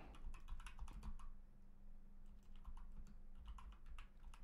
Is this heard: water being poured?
no